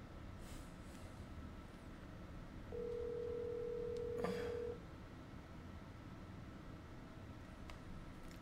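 A phone call rings unanswered as a single steady electronic tone of about two seconds. It stands out clearly over quiet, rumbling background noise.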